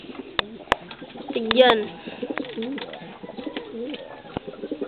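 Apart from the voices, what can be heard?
pet pigeon cooing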